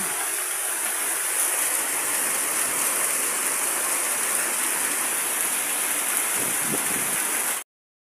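Heavy, continuous rain pours down in a steady roar during a strong windstorm in Zamboanga, with a rushing, windy hiss underneath, cutting off abruptly at the end.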